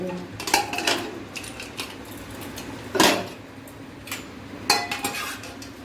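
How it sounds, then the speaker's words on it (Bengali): A pressure cooker of masoor dal being opened: sharp metallic clanks and clinks of the lid and pot, three stronger knocks spaced a couple of seconds apart with lighter rattles between, close by in a quiet kitchen. "আমি ডালটা প্রেসার কুকারটা খুলে দেখবো ডালটা হয়েছে কি।"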